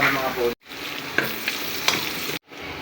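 Pork and garlic sauté in a hot pan with a loud, close, steady sizzle broken by a few stirring clicks, cut by two brief silent gaps.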